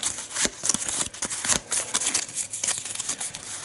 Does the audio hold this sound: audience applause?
no